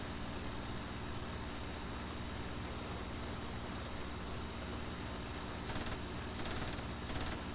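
Aircraft machine guns fire in the IL-2 1946 flight combat game over Stalingrad, a few short bursts late on, riding above a steady, loud engine roar.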